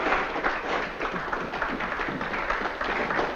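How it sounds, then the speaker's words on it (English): An audience applauds after a stage performance in a 1940s wartime film, a dense steady patter of many hands clapping, moderately loud and slightly distant, holding evenly throughout. "Does the applause warrant an encore?"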